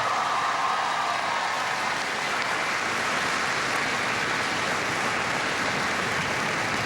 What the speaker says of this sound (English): Give Teresa a big round of applause.